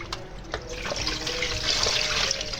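Tap water runs steadily into a pot of okra, a close, continuous splashing rush that builds slightly toward the end, with no talking.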